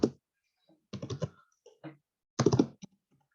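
Typing on a computer keyboard while setting values in SCADA software: three short clusters of quick, close keystrokes separated by silence in a quiet room.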